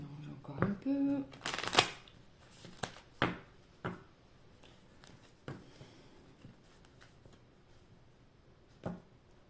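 Playing cards shuffled during a card reading, a few quick riffling bursts near the start followed by sparse, softer card flicks and taps, fairly close and alone.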